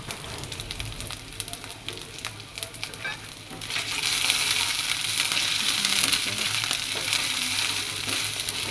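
Onion and chunks of chicken frying with ginger paste and whole garam masala in a pan for a mixed vegetable dish, a soft sizzle and occasional stirring scrapes that swell into a louder, brighter hiss midway through.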